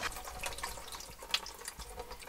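Water running from a pump-fed tap into a camper van sink during washing, splashing and trickling steadily with a few sharper drips and clinks, close and fairly quiet.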